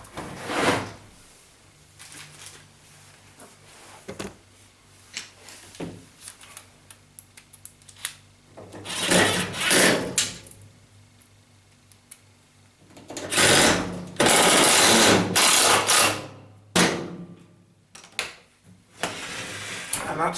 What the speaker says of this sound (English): we've got to tilt the machine over to get the screws in